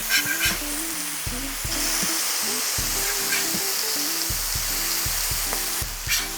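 Burger patties fry in a hot pan after being flipped, giving a loud, continuous sizzle close up, with low background music playing throughout.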